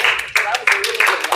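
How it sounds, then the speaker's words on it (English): An audience at a talk on speaking with non-vegans claps in a few strong, rhythmic bursts, loud and close, with a voice briefly audible between them. "give him a strong clap"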